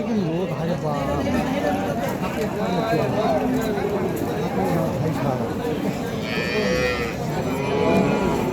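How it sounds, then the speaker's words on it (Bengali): Several Friesian and crossbred bulls low and moo repeatedly nearby, their calls overlapping with people talking throughout. "ক্রস এবং ফ্রিজিয়ান জাতের"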